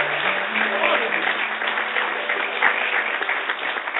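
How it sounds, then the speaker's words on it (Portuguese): A church congregation applauds during a sermon, steady massed clapping filling the whole stretch at even loudness, with voices murmuring underneath. "Você pode aplaudir, meu irmão?"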